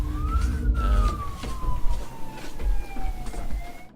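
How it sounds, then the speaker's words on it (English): An ambulance siren in the Prison Architect video game wails with a slowly falling tone over a low engine rumble, loud and close, gradually fading as it passes. "Just wait for the ambulance to go past"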